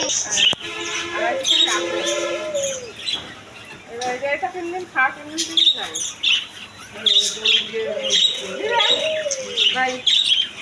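Busy chorus of budgerigars chirping and squawking with occasional cooing from doves at a bird market in Pabna, Bangladesh, while someone talks over them nearby.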